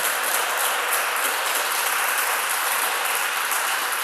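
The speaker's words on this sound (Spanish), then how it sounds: "Ahora dele fuerte el aplauso a Dios." A church congregation applauding during a sermon, a dense, steady roar of many hands clapping together, sustained and fairly loud with no voices standing out.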